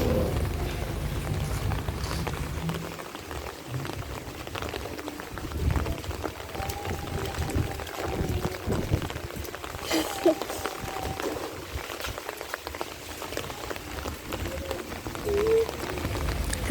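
Steady rain patters on a wet rooftop, a dense, continuous wash of drops that holds at an even level for the whole stretch with no voices over it.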